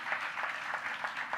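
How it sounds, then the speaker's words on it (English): An audience applauds interns at an arts event, a fairly faint, steady patter of many hands clapping that continues throughout the short moment with no voices over it. "So let us have a big applause for our interns."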